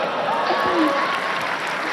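An audience applauds steadily during a Dr Kumar Vishwas interview, a dense wash of clapping with a voice talking over it.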